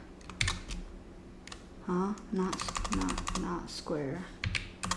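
Bursts of quick keystrokes clatter on a computer keyboard while a person speaks over them, the typing coming in short clusters.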